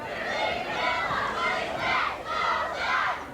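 A large crowd filling a football stadium before a 1988 Western Final game, a steady, close roar of many voices with swelling shouts and cheers rising in waves.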